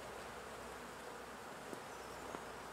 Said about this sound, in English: And that will encourage the bees to keep coming up.